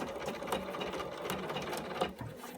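Sewing machine running a triple stitch at 3.5 mm length while top stitching denim for blue jeans, a steady quiet mechanical whir with rapid needle ticking, heard alone and close.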